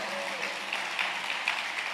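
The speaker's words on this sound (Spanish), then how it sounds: "Ese aplauso está muy dividido." Congregation applause during a church sermon, a moderate wash of clapping that carries evenly for two seconds with a few louder claps poking through.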